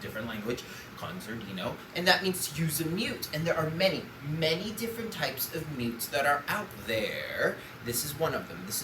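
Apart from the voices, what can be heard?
None of the usual background noises is heard.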